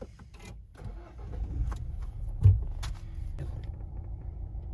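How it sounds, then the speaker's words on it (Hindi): A Mahindra Scorpio N starts after sitting parked for a long time, giving a brief starter crank and then a low, rumbling, vibrating idle heard from close by, with no talk over it. "इसमें गाड़ी ऐसी स्टार्ट करी, घड़ी हुई थी यहाँ बहुत देर से, फिर स्टार्ट करती ना वाइब्रेशन आने लगी"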